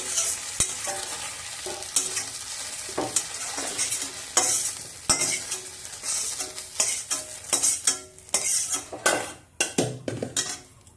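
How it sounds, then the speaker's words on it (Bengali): Okra for dahi bhindi fries in a pot while a spoon stirs it, a busy sizzle broken by repeated metallic clanks and scrapes against the pot, growing choppier toward the end. "এবার হাঁড়িটা তিন থেকে চার মিনিট নেড়ে নিয়ে বের করে নেবো"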